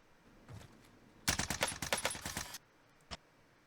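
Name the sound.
automatic weapon gunfire in Warzone video game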